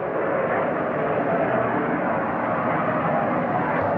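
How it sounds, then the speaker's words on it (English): Jet fighter, probably an F-35, passing over San Francisco near the Golden Gate Bridge, heard as a steady, broad, muffled roar that holds level throughout, with no voices over it. "I think that's an F-35 probably."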